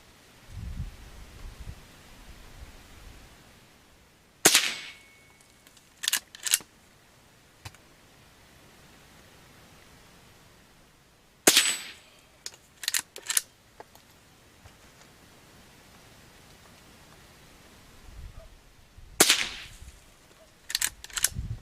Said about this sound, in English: If I shoot at the target, it shoots way to the left.